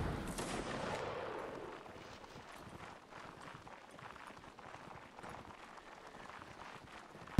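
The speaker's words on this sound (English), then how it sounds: "And the cannonball's about to hit me" Cannon and musket fire in a musket-line battle video game: a loud boom at the start, then scattered volleys and crackling shots throughout, moderately distant and quiet.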